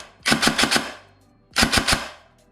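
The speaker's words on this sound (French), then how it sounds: "je peux quand même enchaîner les tirs, vous allez voir" Airsoft AR15 replica rifle firing two quick bursts of about four sharp, loud shots each, separated by a short pause, close by with no talking.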